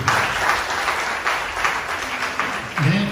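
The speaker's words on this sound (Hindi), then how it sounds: "हमें जोर से ताली बजाए प्रभु की" A church congregation applauds during a sermon, steady clapping for the Lord that swells in waves, with a voice surfacing briefly near the end.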